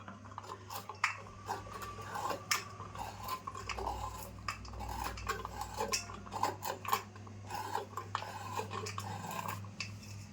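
Dried coconut being cut into pieces with a knife, giving repeated short clicks and taps against a plate or board in an uneven rhythm, close by, over a low steady hum, with no talking.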